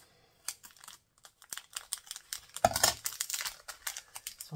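A sealed plastic package with tightly welded seams being cut open up close, irregular crinkling and crackling of the plastic with short bursts and a louder tearing crunch midway.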